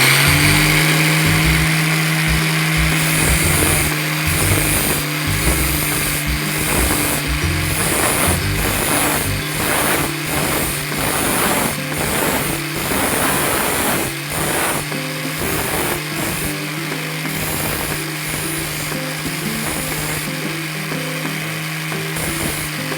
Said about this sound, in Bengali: এই যে মর্নিং মেশিনটা চালাচ্ছি